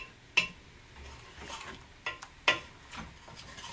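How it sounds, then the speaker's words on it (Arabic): Beef is seared in a pressure cooker pot while a utensil stirs it, with several sharp metallic clinks and scrapes over a faint background sizzle, close and moderately quiet. "نبدأ نشوح اللحم شوية"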